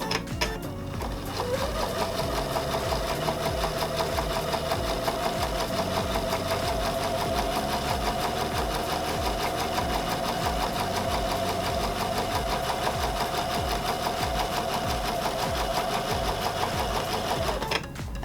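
A sewing machine runs continuously while stitching a quilt seam for flying geese blocks, a fast, even mechanical chatter that starts after a moment and holds steady before stopping at the end.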